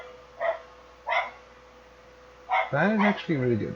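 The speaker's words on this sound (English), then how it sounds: "Sorry about the dog barking in the background." A dog barks a few times in the background at a moderate distance, short separate bursts spaced apart, with a person talking over the later part.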